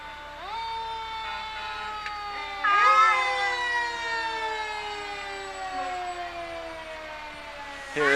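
A wailing fire truck siren sounds at a small-town parade, loud and near, its tone rising and falling in long sweeps over steady background hum, with no talking.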